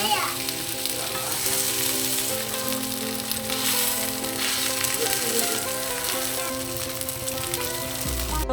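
Steady, loud sizzling of a kimchi pancake frying in an oiled pan, a continuous crackle with no talking.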